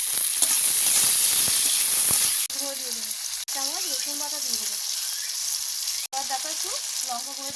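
Spices, salt, a pinch of sugar and chopped tomato sizzle steadily in a hot pan for a Bengali fish roe curry, a loud continuous frying hiss with brief dips as the mixture is stirred, while a voice talks over it.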